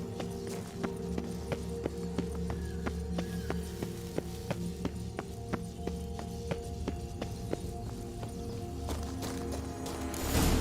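Roach, Geralt's horse in The Witcher 3: Wild Hunt, gallops with steady rhythmic hoofbeats over a low musical drone, the clip-clop pattern continuing evenly throughout at moderate volume.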